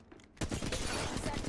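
Rapid gunfire in the mobile battle royale shooter Apex Legends Mobile, a dense burst of shots erupting loudly after a brief quieter moment and continuing steadily to the end.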